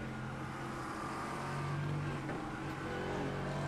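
GT3 car in a sim racing game at VIR, heard onboard with a steady, dense engine drone throughout that rises and falls slightly under braking and acceleration, with no voices.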